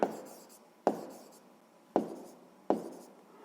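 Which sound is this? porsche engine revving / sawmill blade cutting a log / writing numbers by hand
writing numbers by hand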